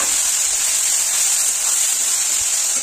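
Chopped tomato goes into a hot pan of frying ginger-cumin paste and chilli paste, giving a loud, steady, even sizzle with no talking.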